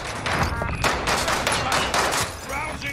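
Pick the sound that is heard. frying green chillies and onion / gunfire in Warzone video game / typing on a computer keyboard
gunfire in Warzone video game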